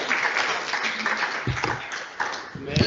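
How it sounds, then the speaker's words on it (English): A webinar audience's round of applause after a public lecture presentation, steady dense clapping filling the whole moment with a few brighter individual claps standing out. "I think another round of applause to the presentation."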